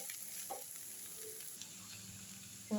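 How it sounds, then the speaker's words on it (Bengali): Poha, or flattened rice, stir-fried in oil with spices in a pan, giving a soft continuous sizzle with a few scraping stir sounds, fairly quiet and without talk. "তেলটা দিয়ে এটাকে ভালো করে সব কিছু মিশিয়ে নিয়ে ভালো করে কষতে নিতে লাগবে।"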